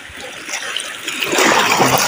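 Strong waves wash inside a cave, a rushing, splashing surge of water that builds louder and closer toward the end, filling the echoing space.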